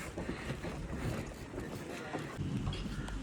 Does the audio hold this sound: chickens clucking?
no